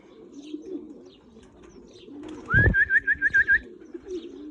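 A racing pigeon at its loft gives a rhythmic run of about seven cooing pulses, clear and close, over a low background murmur.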